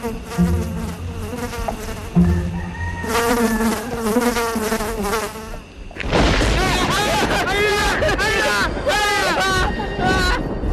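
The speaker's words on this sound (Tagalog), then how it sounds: "ayan na yung mga putakte" Swarm of wasps, a dense, shifting buzz of many insects rising and falling in loudness, with a sudden louder, fuller burst midway, mixed with murmuring voices and a low boom.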